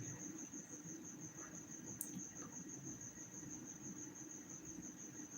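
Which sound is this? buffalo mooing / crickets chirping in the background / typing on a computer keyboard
crickets chirping in the background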